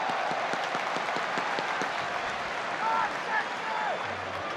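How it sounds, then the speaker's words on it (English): Stadium crowd applauding a defensive play by Brodie Spencer during an FA Cup third-round match between Manchester City and Huddersfield Town, a steady wash of clapping with distant whistles and shouts. "Applause for the defensive contribution of Brodie Spencer."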